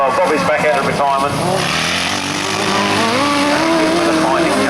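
Grasstrack sidecar racing outfits at a 1991 Weald of Kent meeting roar around a turn, engines loud and continuous with pitch rising and falling, while a commentator talks over them.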